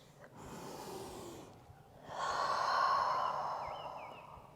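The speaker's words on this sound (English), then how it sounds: "Take a breath." A person takes a long, audible breath during a yoga flow, a soft inhale followed by a stronger, airy breath that swells and fades, close and fairly quiet.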